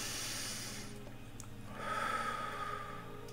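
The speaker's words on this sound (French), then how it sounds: "Une respiration." A single deep, slow breath, faint and close, with a soft airy inhale rising toward the end over quiet background hum.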